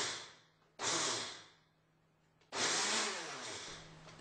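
A blender grinds soaked dal for dahi vada in two loud bursts, the first about a second long and the second running on for a couple of seconds, with quiet pauses between them and no speech.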